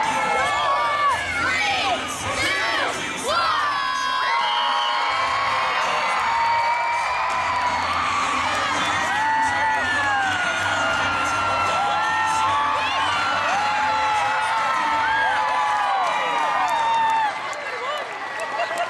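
A crowd cheers and whoops at a Border Collie race in Toronto, with excited shouts, high children's voices and rising yells layered over a continuous roar of spectators, loud and sustained throughout.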